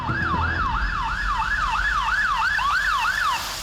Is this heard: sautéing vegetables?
no